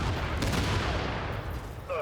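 Dense video game gunfire rattles in a rapid, overlapping barrage, loud and close, with a voice speaking over the shots near the end.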